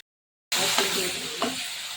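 Tomato, turmeric, chilli powder and garam masala frying in a pan for egg rice, a close, bright sizzle that starts abruptly after a short silence, with two soft stirring scrapes.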